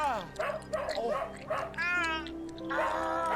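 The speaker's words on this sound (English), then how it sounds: "We follow the tracks until we hear a dog barking and a man struggling." Barking dog in a strange video game, a mix of yips, whimpers and bow-wow barks coming in short bursts, with a man struggling amid game sounds and voices.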